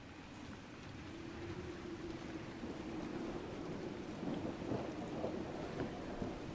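Steady rain hisses in a video game with a low, rolling rumble of distant thunder underneath, quiet and continuous.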